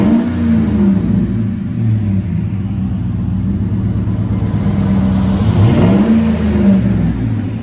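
Loud, throaty exhaust from a 2007 Chevy Silverado 5.3L V8 with dual Flowmaster 40 Series mufflers rumbles steadily, with two revs where the engine pitch climbs and falls back, close and without voices.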